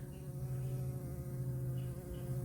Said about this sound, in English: I do think that's an orchid bee